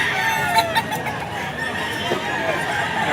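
A Hatch Gray gamefowl rooster crows and clucks at a busy pet market, standing out over a constant wash of crowd and market noise.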